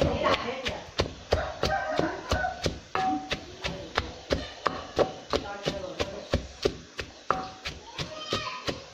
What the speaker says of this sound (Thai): นี่พี่น้องผมสิตำพริกตำหอม